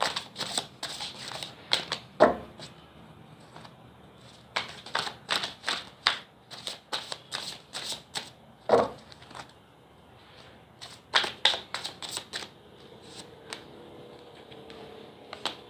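Tarot cards are riffled and shuffled close up in repeated short bursts, crisp and papery, with brief quiet pauses between the runs of flicking.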